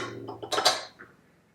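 Two eggs are cracked into the bowl of a stand mixer fitted with a whisk attachment. There are a couple of sharp, close taps and clinks against the bowl, followed by a short ringing tail, and no one talks.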